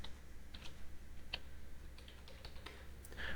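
Someone types "AliExpress" on a computer keyboard: a short, quiet run of scattered key clicks in a still room, with no talking.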